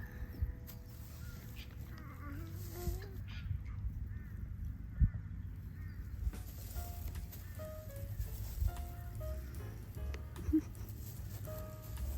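Geese and ducks honking and quacking while being fed outdoors, scattered calls near and far over a low ambient rumble, with occasional faint voices.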